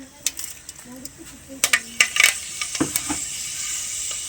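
Mustard and fenugreek seeds dropping into a hot pan, a scatter of small sharp ticks and clinks over about four seconds, with a few louder rattling hits in the middle.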